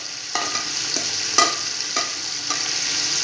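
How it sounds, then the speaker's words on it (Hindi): Garlic ginger paste sizzles in hot oil in a pot of Sindhi pulao, a steady frying hiss broken by several stirring scrapes, close and without talk. "अब इसमें हम डालेंगे लहसुन अदरक का पेस्ट"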